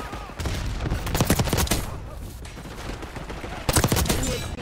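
Dense gunfire fills an online match of Call of Duty Black Ops 6 on the Derelict map, with loud overlapping automatic bursts from an MP5 and other weapons running almost continuously and rising again near the end.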